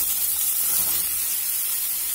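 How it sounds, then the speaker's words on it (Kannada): Chopped pumpkin pieces hit a hot pan already holding asafoetida, turmeric and green chillies, giving a loud, steady hissing sizzle for a pumpkin palya. "ಈಗ ಇದಕ್ಕೆ ಸಣ್ಣದಾಗಿ ಹೆಚ್ಚಿಕೊಂಡಿರೋ ಕುಂಬಳಕಾಯಿ ಹೋಳು ಹಾಕೋಣ"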